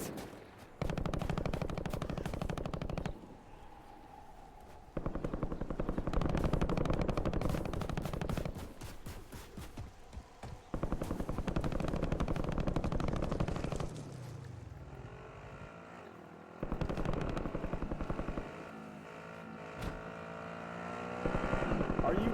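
Rapid automatic gunfire crackles in long bursts through a Call of Duty Warzone match, broken by short gaps and vehicle-like engine drones, with voices in the game heard between volleys.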